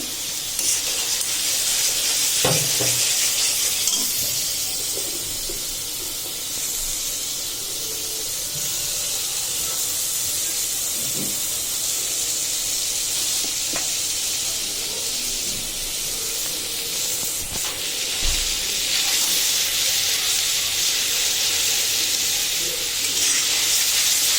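Spice paste for a pabda fish curry sizzling in a pan: a steady, moderately loud hiss runs throughout, with a few brief clatters and scrapes of stirring along the way.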